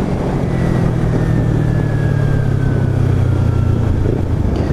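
Kawasaki Ninja 300 motorcycle ridden on a freshly repaired and balanced wheel, its engine droning loud and steady with a smooth, continuous hum and a slowly falling pitch as it cruises.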